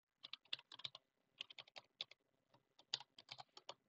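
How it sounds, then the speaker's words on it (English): Someone types on a computer keyboard in quick, uneven bursts of crisp clicks, with short pauses between the runs of keystrokes, close and fairly quiet. "What are you typing, Aiden?"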